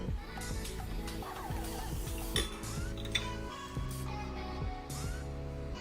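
A utensil clinks and scrapes against a pot in irregular bursts while stirring canned ingredients for chicken dressing, with steady background music playing underneath.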